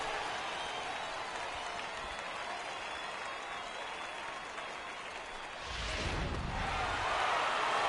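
Home crowd in MLB The Show 18 baseball game roaring with steady applause and cheering throughout, swelling louder near the end.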